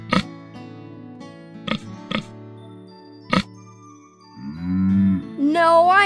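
A cartoon cow moos at a farm animal sanctuary, preceded by several short percussive jingles and musical hits, then a long loud bellowing moo followed by a rising, wavering call.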